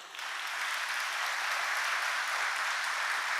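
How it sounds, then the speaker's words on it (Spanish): A church congregation claps together in a steady, full wash of applause that starts abruptly and continues evenly, with no talking over it. "Le damos un fuerte aplauso al Señor."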